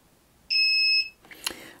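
A multimeter's continuity beep sounds once as a loud, clean tone about half a second long while probing a Sony MZ-N707 MiniDisc player's circuit board, followed by a few soft clicks and rustles.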